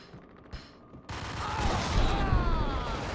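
Rapid submachine gun fire in the PC shooter Max Payne, a dense fusillade that swells from sparse shots to sustained loud bursts, with no talking.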